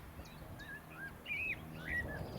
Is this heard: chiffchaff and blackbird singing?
yes